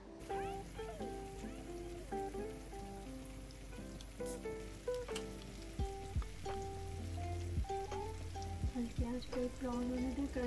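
Jalebi frying in hot oil over low heat gives off a steady, soft crackle and fine bubbling that rises from a quiet background, with occasional light clinks.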